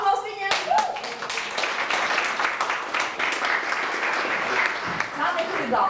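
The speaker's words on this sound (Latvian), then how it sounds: "aplaus viņiem!" An audience bursts into applause at a stage event, many hands clapping in a dense, fairly distant wash that swells right after an abrupt start and carries on steadily throughout.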